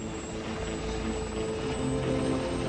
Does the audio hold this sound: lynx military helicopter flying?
yes